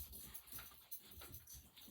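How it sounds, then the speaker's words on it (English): Dogs playing indoors make quiet scuffling, panting and small whimpers, faint and close, with no voices. "My dogs have decided to come inside and have a bit of a play."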